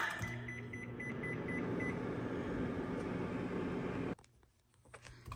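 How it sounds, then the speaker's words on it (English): A steady electric hum and whir of a microwave running, with faint repeated beeps early on, then the drone cuts off abruptly near the end. "We're going to pop this in our microwave on the middle of our rotating glass pan. And set our microwave."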